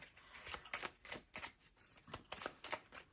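A deck of cards is riffled in repeated quick bursts, close and soft, each crisp fluttering shuffle separated by short pauses.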